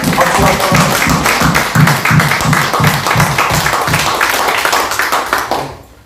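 A church congregation claps forcefully and fairly in unison, the strokes landing in a loose rhythmic beat, loud and near, before fading out at the very end.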